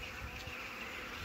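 Dense, steady buzzing of many honeybees close by at a hive in winter, a continuous humming drone with no voices.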